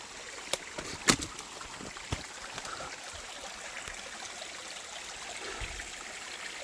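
Water from a mountain valley stream runs steadily in the background, a soft, continuous rushing flow broken by a few faint clicks and knocks.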